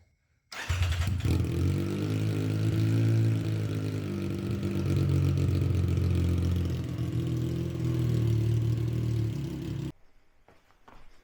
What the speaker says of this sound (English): Let's start the bike without the exhaust.